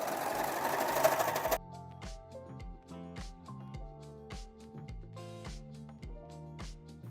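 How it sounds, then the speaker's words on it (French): An overlocker (serger) stitches a sleeve seam on a knitted sweater, running in short bursts that start and stop in a steady series, close by. A loud broadband rustle of handling comes first. "on les enlève au fur et à mesure qu'on avance sur la surjeteuse"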